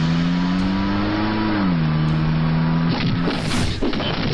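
A car drives along with a steady droning engine tone that dips slightly as it shifts, continuous and close, with a burst of noisy rumble near the end.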